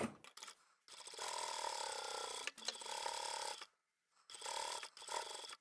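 A sewing machine stitches quilt binding in steady, rapid mechanical runs of a few seconds each, separated by short pauses, close and moderately quiet with no talking.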